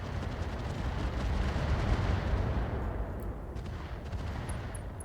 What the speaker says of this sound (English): The Vifrit is shooting.